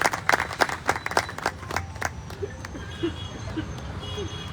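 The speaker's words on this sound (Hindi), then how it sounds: "आप लोग जोरदार तालियां बजाएं उनके सम्मान में।" Scattered hand clapping from an audience at an Indian martyrs' memorial ceremony, brisk claps at first then thinning out, heard from a distance with faint crowd murmur behind.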